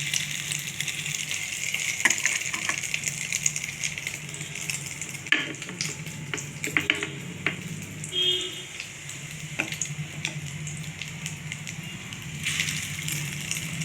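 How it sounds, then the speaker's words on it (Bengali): Chicken pakoras in an egg batter fry in oil with a steady, fairly quiet sizzle throughout, with a few light clinks and stirring sounds on top and no one talking. "আমি দুরকমভাবেই ভেজে দেখছি কেমন চিন্তা ভালো হয়"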